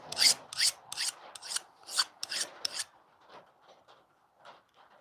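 Close-up scraping strokes remove the burr from the edge of a hoof trimming knife. About eight crisp rasping passes come first, then several fainter, softer strokes, with no talking.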